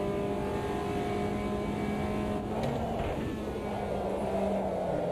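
Caterham race car engine in a sim racing game, a steady, sustained drone with a constant tone that shifts pitch slightly partway through, heard alone.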